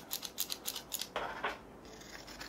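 Pinking shears snipping through paper in a string of quick crisp cuts, several short rasping clips close to the microphone, followed by a brief pause and a lighter scrape.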